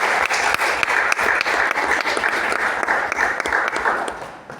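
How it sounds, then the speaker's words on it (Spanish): Audience applause for a performer at an arts event in the Centro Cultural del Cabildo: dense, steady clapping from a crowd for about four seconds, tapering off at the end. "Así que un aplauso para Brigitte"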